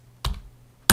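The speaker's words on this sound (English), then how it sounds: "I type in" Keystrokes on a computer keyboard while entering an HTTP header into an Excel web request: two short, crisp bursts of tapping about half a second apart, close and clear in a quiet room.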